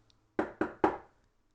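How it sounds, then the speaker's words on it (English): Three sharp, loud knocks on a door in a short film, evenly spaced and close together, with silence before and after. "Suddenly, a loud knock is heard on the door."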